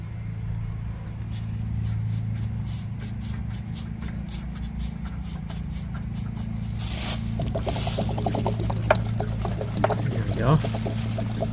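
Water drains out of RV plumbing through an opened valve while the rig is being winterized, a steady rushing flow under a constant low hum that thickens into a livelier splashing trickle partway through.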